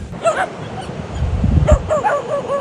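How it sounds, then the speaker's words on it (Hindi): Young puppies bark and yip in short high-pitched bursts near a parked vehicle at night in a quiet area of Nauru, with several overlapping yelps against low rumbling background noise. "ये छोटे पिल्ले भी नहीं छोड़ रहे"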